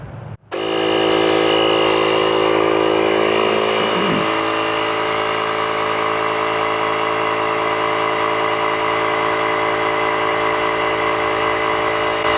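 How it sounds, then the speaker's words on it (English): A Lokithor portable tire inflator runs continuously and loudly, starting abruptly after a brief silence and holding a steady droning whine with a slight pitch shift partway through as it pumps air into a car tire. "It'll fill the tire and then it'll turn itself off once it's satisfied with the pressure that you set it at."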